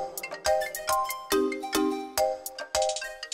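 A phone ringtone plays as a bright, bell-like melody of repeated struck tones, each note sharply attacked and decaying, in a steady rhythm at moderate loudness.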